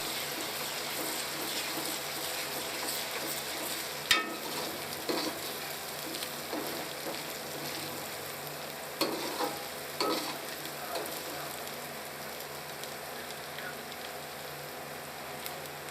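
Ginger and garlic frying with onions in a pan for aloo curry, a steady close sizzle with occasional stirring scrapes and clatters throughout, no talk.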